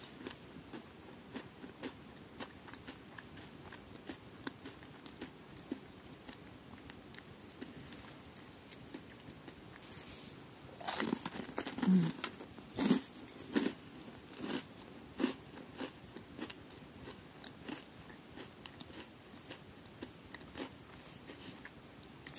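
Monster Strike card wafers being eaten, a quiet run of crisp bites and crunches that grows louder and denser midway before settling into softer, intermittent chewing, close and alone.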